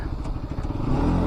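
A motorcycle ridden along a winding ghat road in Kerala, its engine a steady, close low rumble with light rattling and thuds for about a second, no talking over it.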